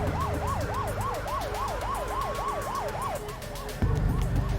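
A wailing emergency-vehicle siren, likely police or ambulance, cycles in rapid regular sweeps, loud and close, over rumbling road traffic. It fades slightly near the end before a louder burst of engine and street noise.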